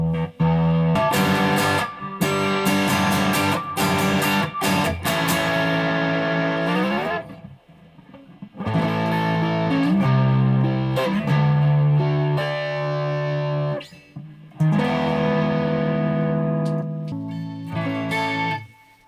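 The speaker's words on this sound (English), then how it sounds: "there's a lot of distortion on these pickups when they're all the way, volume all the way up" A Squier Sonic Series electric guitar with its pickups distorting at full volume plays loud chords and riffs, with brief pauses and ringing sustain between phrases.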